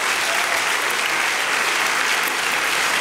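Sustained audience applause at a Swiss TV awards gala, a dense, steady wash of many hands clapping throughout, loud and close with no talking.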